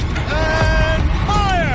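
A gun turret rotates in the video game Horizon Zero Dawn, giving a mechanical whirring and creaking sweep with rising and falling tones over a constant background rumble.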